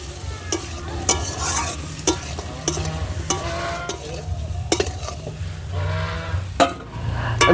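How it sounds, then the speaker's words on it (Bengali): Fried potatoes being stirred with spice masala in a hot sizzling pan for a vegetarian paneer curry, with a steady loud frying hiss and repeated scraping and clanking strokes of the spoon, and no talking. "আমি ভালো করে আলু আর মশলাটা কষিয়ে নিয়েছি"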